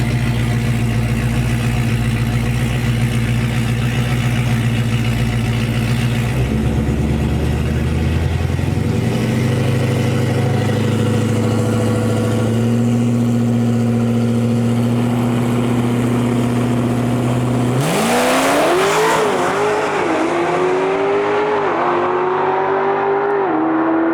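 Street-car drag racing with a Dodge Charger and a Ford Mustang at the track: loud, sustained engine drones hold and shift pitch, then a sudden roaring surge of acceleration rises and fades toward the end.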